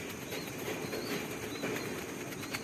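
Pigeons flap their wings at close range in a steady, fluttering rush of wing beats that lasts throughout, with no talk.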